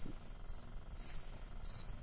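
Cricket chirping sound effect played on a radio show: three clear, high pulsed chirp bursts spaced about evenly over faint steady noise, with no talk.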